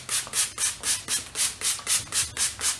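Rhythmic back-and-forth strokes of fine number 3 sandpaper across a sprayed, wet surface under firm horizontal pressure, about eleven even swishes in under three seconds, close and alone with no talking.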